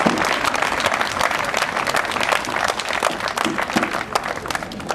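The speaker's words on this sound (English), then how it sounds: "A round of applause for you guys who have made all this thing happen." Audience applause at a company annual day event, loud, dense and sustained clapping from a large crowd with no break.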